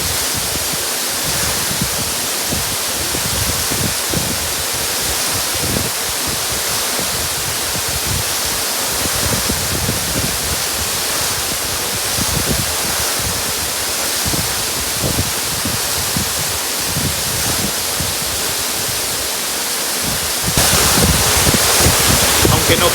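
Water falls from a great height in a waterfall, giving a loud, unbroken roar of rushing spray heard up close, with no break in the steady wash of sound.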